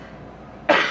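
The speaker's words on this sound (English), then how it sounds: "I'm going to cough a minute, excuse me." A single loud cough bursts out near the end, preceded by quiet room tone; it comes from a person who is getting over being sick.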